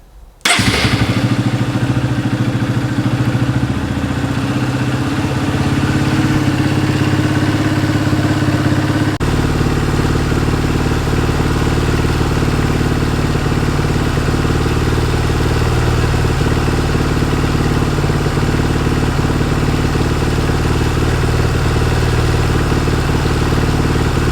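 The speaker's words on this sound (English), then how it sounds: "let it idle for about, let's say 5 solid minutes of idling with this light on" A dirt bike engine starts up and settles into a steady, loud idle, running unchanged with a faint mechanical clatter and no voices.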